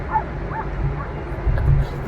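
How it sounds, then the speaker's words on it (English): Sled dogs already hooked to a sled before their first run on a glacier yip, whimper and bark excitedly in quick bursts, with a steady rumble underneath and voices nearby. "the dogs are all clamoring and barking and just they're bouncing up and down"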